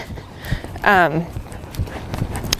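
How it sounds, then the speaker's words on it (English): A young four-year-old horse's hooves clip-clop rhythmically on an arena surface during trot-canter transitions, moderately close, while a rider talks over them. "So I'm gonna do a couple of trot canter trot transitions."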